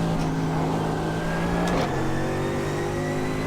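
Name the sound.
Mercedes GT3 race car driving in iRacing video game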